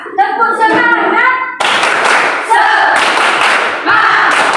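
A classroom of pupils does a rhythmic spirit clap, loud and close, with bursts of clapping and shouted chanting voices; children speak and call out between the claps.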